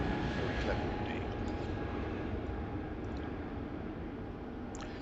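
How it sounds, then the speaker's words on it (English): Airbus A321 airliner departing Heathrow for Dublin, a steady broadband engine roar holding at a constant, moderately loud level throughout with no talk. "It's an Airbus 321, registration EILRC, and as I say, it's going out to Dublin."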